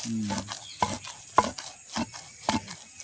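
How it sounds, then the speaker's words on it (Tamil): Boiled grain with coconut and sugar is pounded in a mortar outdoors in a village setting, giving a steady series of dull thuds about every half second, close and moderately loud. "இப்படி இடித்து சாப்பிட்டீங்கன்னா விடவே மாட்டீங்க"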